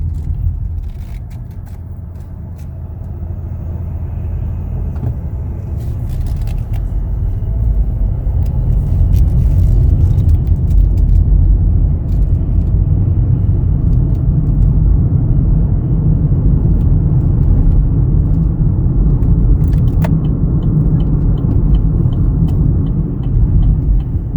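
A 2019 Chevrolet Equinox LT engine hums steadily while driving, a low continuous rumble that builds slightly and holds, with road noise and no talking.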